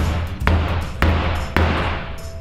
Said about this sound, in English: Then you could take the hammer and really hit it in.